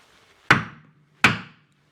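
Two hard, ringing hammer blows strike a stuck differential on a 1978 Silver Anniversary Corvette, spaced under a second apart, each sharp impact decaying quickly into quiet.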